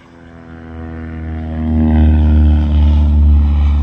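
A crop-spraying propeller airplane approaches over a field, its steady engine drone swelling from moderate to loud and close as it passes, with no talking.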